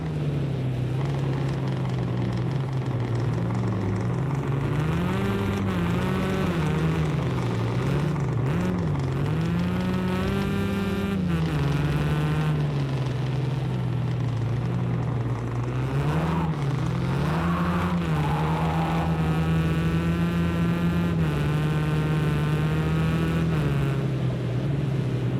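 A WRX race car lapping the Bathurst circuit, its engine droning loud and close the whole way, pitch rising and falling through gear changes and corners.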